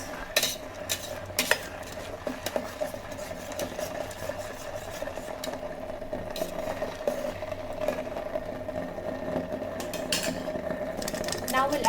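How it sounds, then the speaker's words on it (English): A spoon stirs a mushroom mixture thickened with corn flour slurry inside an electric kettle, making repeated clinks and scrapes against the pot over a steady cooking hum, with a voice speaking at times. "Now we'll add the corn flour slurry to this mixture just to thicken it. Give it a good mix."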